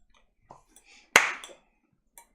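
A single sharp hand clap rings out loudly amid quiet background, preceded by faint murmurs and soft movement.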